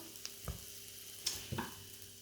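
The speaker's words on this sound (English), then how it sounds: "You can hear that nice sizzling sound." Something sizzles quietly in hot oil, a soft crackling hiss with a few scattered pops and clinks from a pan.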